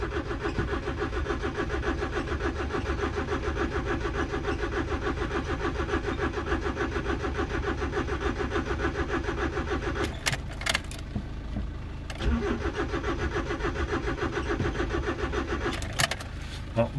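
A car engine cranking but failing to start, a rapid rhythmic starter whir churning steadily and close, then stopping, with a few clicks and a brief second cranking attempt near the end, no talk.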